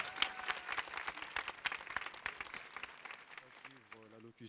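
Audience applause at the inauguration ceremony of a television channel, a dense patter of many hands at moderate distance that thins out toward the end as a voice begins to speak over it.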